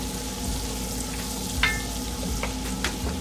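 Low, steady sizzle of keto broccoli and cheddar soup ingredients cooking in a pot, with a few faint scrapes and clinks of a spoon stirring, no talking.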